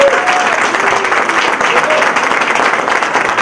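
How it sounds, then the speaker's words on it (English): Applause from an audience at a Hispanic chambers of commerce event at Macy's, a dense steady wash of many hands clapping at close range, with voices mixed in underneath throughout. "Let's give applause to all this."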